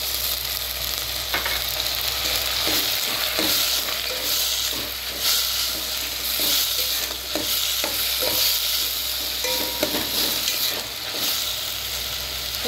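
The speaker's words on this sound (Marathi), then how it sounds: "थोडं चांगलं परतून द्या." Capsicum, carrot and peas sautéing in a pan for veg pulao, a steady close sizzle with frequent stirring scrapes and clicks running throughout, with no talking.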